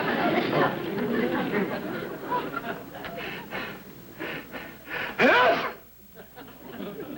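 A sneeze bursts out near the end, following muffled chatter from people talking in a doctor's waiting room in an old radio comedy.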